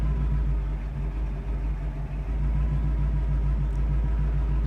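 A 1968 Pontiac Firebird engine idles with a steady low rumble, close and even throughout, with no talking.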